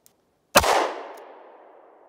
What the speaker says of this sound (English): I'm gonna be shooting from about 4 feet away.